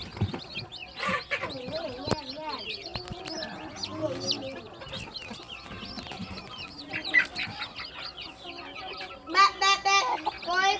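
A hen clucks repeatedly near a coop on a small home poultry farm, with other birds calling intermittently and people talking in the background.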